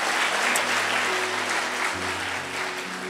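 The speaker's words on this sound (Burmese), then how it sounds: "တီးခံတော်မူသောဘုရားကိုလက်ခုပ်တီးတဲ့ချီးမွမ်းရအောင" A church congregation claps in praise during a service, a dense sustained wave of applause filling the room, loud and continuous without talk over it.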